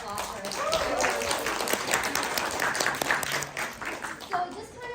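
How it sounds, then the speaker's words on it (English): An audience applauds at a university speaker panel, with steady clapping filling the room and speech heard alongside it. "Can we just give a big round of applause for her?"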